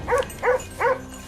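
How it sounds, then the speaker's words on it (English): Hunting dogs chasing a wild boar across an empty field give three evenly spaced barks, sharp and fairly close, with no other sound between them. "The chaotic barking of hunting dogs echoed across the empty field"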